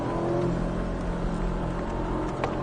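A Porsche 718 Cayman S engine drones steadily on a race circuit, accelerating out of a corner, fairly loud and close, holding a constant roar for a few seconds.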